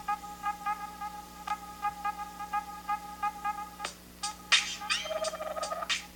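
A smartphone's small, tinny rear loudspeaker plays a repeating electronic melody of short tones, then brighter bursts and a warbling sustained tone, fairly quiet and close.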